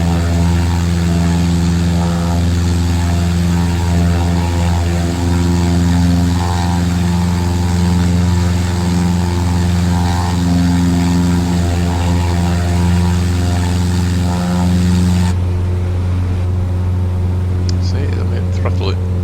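Steady droning propeller engine of a Cessna 172 in a flight simulator, loud and constant with a strong low hum and layered harmonics, cutting off abruptly near the end before a brief quieter tail, with a voice talking over it.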